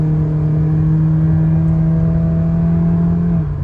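A car engine fitted with a WINDBOOSTER throttle tuner, set to race mode, holds a loud, steady droning hum close by, its pitch nearly constant, then eases off slightly at the very end.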